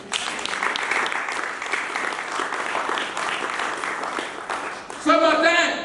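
A church congregation applauding, a sustained wash of clapping from many hands at moderate level, with a voice rising over it near the end.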